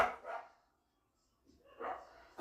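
A pet dog barks indoors in reaction to other dogs outside, with two short bursts of barking near the start and a louder pair near the end, separated by a quiet pause.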